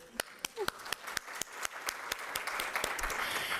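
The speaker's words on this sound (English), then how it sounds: "So myself, I'm gonna applaud you" At the Africa Prize for Engineering Innovation final, sharp individual handclaps ring out in a fairly even rhythm, quiet at first, while a broader wash of audience applause swells underneath, with a voice faintly present.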